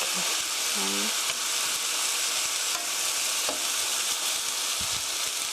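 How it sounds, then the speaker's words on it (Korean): Thinly spread bulgogi meat sizzles steadily in a hot pan, a constant bright crackling hiss with a few faint clinks of a utensil. "이게 바로 불고기 만드는 소리예요."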